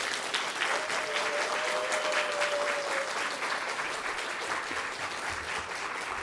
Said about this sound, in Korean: 뜨거운 박수로 여러분 맞아주시면 감사하겠습니다.